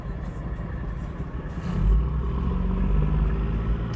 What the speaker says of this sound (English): Loud truck in front of us.